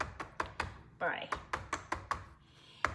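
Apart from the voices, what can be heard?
tapping a pan of brownie batter to knock out air bubbles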